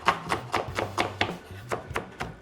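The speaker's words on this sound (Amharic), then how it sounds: "እንከትፈዋለን።" Vegetables for a potato and bean salad are chopped in quick, even strokes, about nine sharp knife taps in just over two seconds, close and fairly quiet with no voices.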